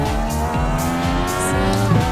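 Race car engines in iRacing snarl loudly as the pitch climbs and drops through rapid gear changes, several cars blending together with tire squeal in a dense, close roar.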